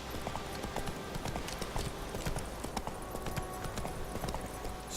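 Roach, the horse in The Witcher 3, trots along with steady clip-clopping hooves, a continuous rhythmic patter over low ambient game sound, moderately close.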